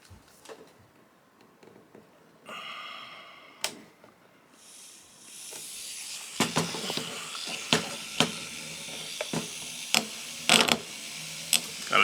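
A micromotor or flex shaft bit textures metal for jewelry, a steady close whirring hiss that starts partway through, with sharp ticks and scrapes where the bit catches the surface.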